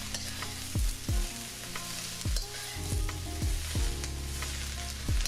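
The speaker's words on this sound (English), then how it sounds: "now it's time to add that multicolored cauliflower" Multicolored cauliflower sizzles steadily in a hot stir-fry pan, with repeated stirring and scraping thumps at a loose rhythm throughout, close and moderately loud with no talking.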